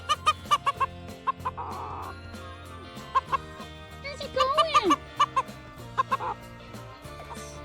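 A pet rooster clucking in short repeated bursts close by, with a rising crow-like call partway through, over soft background music and a brief spoken question.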